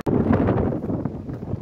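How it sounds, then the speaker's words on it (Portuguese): Strong wind gusts at Pico do Crasto, a hilltop in Braga, Portugal, buffet the microphone in a loud, close, rumbling roar that surges and eases over a brief moment. "ventando bastante aqui"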